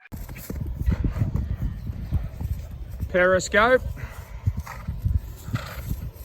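A horse moves about a paddock alongside its stable mate, with soft, irregular hoof falls and movement noise under talk, and a brief whinny-like call stands out near the middle.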